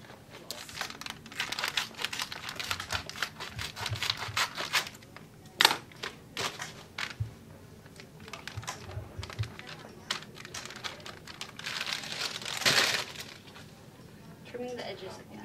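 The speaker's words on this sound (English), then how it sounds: "Trimming the edges again." Scissors trim the edges of fiberglass splint material while an ulnar gutter splint is being made, giving soft crinkling snips and rustles that run steadily under a person talking.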